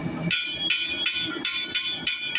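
A hammer strikes an arrow point on an anvil while forging an arrowhead, giving six bright metallic rings in a steady rhythm, each with a short ringing decay, close and loud with no talk.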